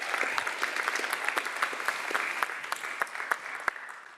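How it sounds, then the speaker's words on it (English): A crowd at a particle physics event applauds the Director General of CERN in a sustained, even wash of clapping from many hands, moderately distant, with a few sharper claps standing out. "give a big round of applause to the Director General of CERN"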